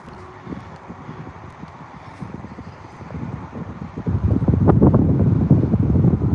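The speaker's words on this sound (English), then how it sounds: "It is windy" Wind buffets a nearby microphone with rumbling gusts that grow stronger and louder toward the end, with no talking, outdoors at a radio-control plane flight.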